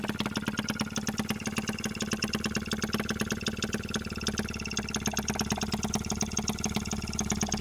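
Lister D model stationary engine from OKMO-Retrol running steadily, a close, even, rapid chugging thump with a mechanical clatter on top, no voices over it.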